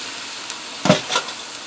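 Canned diced tomatoes with their juice hit a hot electric skillet, giving a short burst of sizzle and splash over a steady low frying hiss, close and fairly loud.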